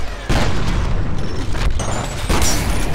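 Loud grenade explosion in the shooter game F.E.A.R. Extraction Point, a sustained booming blast with rumbling debris and a second burst near the end, filling the whole short stretch without talk.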